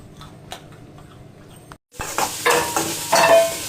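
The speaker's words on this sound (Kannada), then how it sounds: "ಇದನ್ನು ಸ್ವಲ್ಪ ಫ್ರೈ ಮಾಡಿ ಉಳ್ಳಾಗಡ್ಡಿ ಗಿಡಗಡ್ಡಿ ಹಾಕಿ ಹೊಡಿನು ಬರ್ರಿ" Soaked chickpeas fry with chopped onions in a pan at home, a quiet clatter giving way after a brief gap to loud, crackling sizzle and stirring close by.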